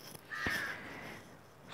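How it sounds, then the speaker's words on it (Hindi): A single crow gives one clear, harsh caw close by, standing alone against a quiet background. "कौवा फिर से चिल्ला रहा है"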